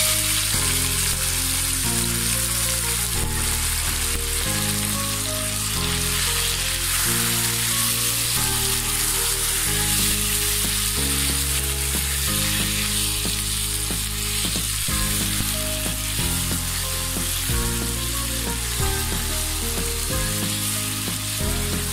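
Marinated chicken liver and offal sizzling loudly in hot oil with browned onions, a dense steady crackle with occasional stirring, close and continuous throughout.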